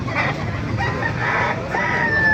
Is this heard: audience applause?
no